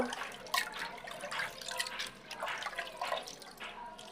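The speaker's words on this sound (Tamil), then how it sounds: "இந்த பருப்பை வந்து நல்லா ஒரு மூணு நாலு வாட்டி நல்லா கழுவிக்கலாம்" Lentils (dal) being rinsed by hand in water, several rounds of washing: soft, close sloshing and dripping with irregular splashes, no talking.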